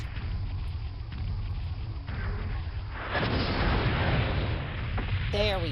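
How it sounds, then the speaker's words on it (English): An artillery barrage pounds a target in the MechWarrior 2: 31st Century Combat video game, a low rumbling boom of impacts that builds heavier midway, with a brief synthetic warbling tone at the very end. "Hopefully this entire thing goes up in one barrage."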